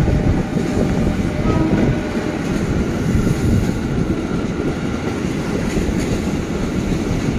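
A KRL commuter train rolls into Manggarai station in Indonesia as a loud, steady rumble of wheels and carriages. No voices are heard over it.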